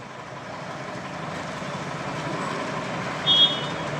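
A drainage cleaning truck idles on a street with a steady, close, low engine rumble, and a brief high reversing beep sounds near the end.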